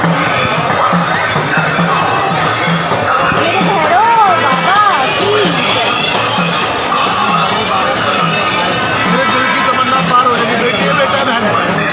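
Temple worship at Sheetal Mata during Ram Navami, with dense crowd babble, shouting voices and chanting filling the space steadily for the whole stretch.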